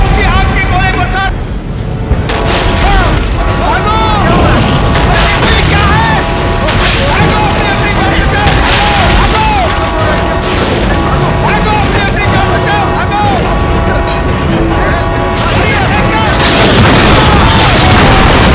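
Explosions and heavy booms rumble continuously through a volcano-themed Hollywood action film dubbed in Hindi, loud and dense, with engine noise mixed in and voices speaking over the din.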